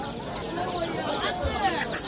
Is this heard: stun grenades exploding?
no